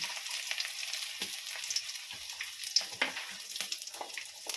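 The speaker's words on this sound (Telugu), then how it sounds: "ఎండిమిర్చి వేస్తున్నాను" Dried red chillies crackle and spit in hot oil, a close bright sizzle dotted with sharp pops, a few of them louder, with no voices.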